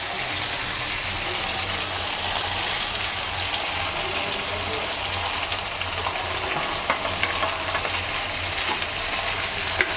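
Rohu fish sizzles as it is added to a pan of cooked-down mustard paste gravy, giving a steady, close frying hiss with faint stirring clatter and no talking.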